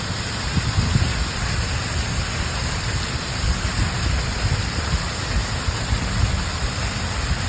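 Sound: waterfall near a hillside cafe

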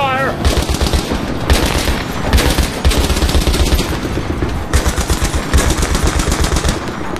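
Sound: machine gun covering fire in video game Battlefield 3

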